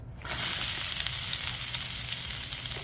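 Peppers and onions hit hot oil in a pan and erupt into a loud, steady sizzle that holds close and constant after a sudden start, with no talking over it.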